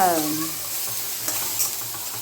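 Ginger garlic paste frying in a pan for an egg gravy, a soft continuous sizzle with light stirring scrapes, opening with a brief tonal whine that fades quickly.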